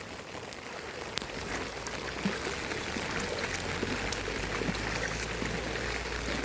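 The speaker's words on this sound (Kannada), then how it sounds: "ಮಳೆ ಒಂದು ಆರ್ಭಟ ಏನಿದೆ" Heavy monsoon rain pours down on a rural riverside village, a faint, steady hiss of rainfall with no voices and scattered drips and patters throughout.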